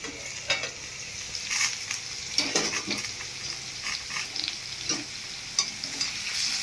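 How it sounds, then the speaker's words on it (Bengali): Potatoes fry in oil in a pan. A steady sizzle runs under repeated spatula scrapes and taps at an uneven pace, fairly close, with no one speaking. "আলু প্রায় ভাজা হয়ে এসছে"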